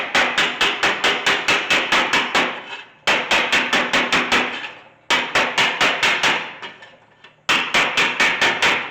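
Rapid, ringing hammer blows on a sheet-metal roll pan for a 1972 Chevy C30 dually come in four quick bursts of about eight to ten strikes each, loud and close, with brief pauses between bursts.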